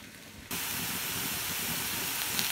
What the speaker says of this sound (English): stir the vegetables around, and then I kind of press them against the sides of the wok so that they can cook against that hot surface